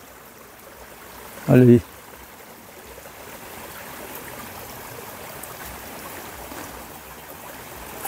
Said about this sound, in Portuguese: é uma pequena queda d'água que faz esse barulhinho